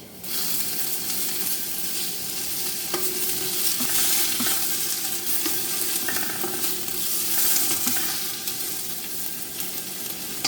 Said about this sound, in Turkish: Ve soğanımız kızarmaya başladıkta baldar biberimizi də elave edirik.